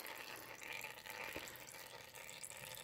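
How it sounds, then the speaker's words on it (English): Motor oil dripping and trickling from a Honda Hawk 250 motorcycle during an oil change, a steady faint liquid patter that runs on without break and has no voices over it. "you see it's still dripping out here"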